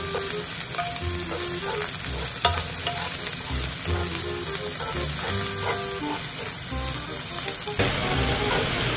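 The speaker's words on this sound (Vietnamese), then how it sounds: "người ta sẽ chiên hành với lại thịt bò lên trước" Continuous hissing sizzle of onions and beef frying in a hot pan, with scraping stir sounds, close and steady.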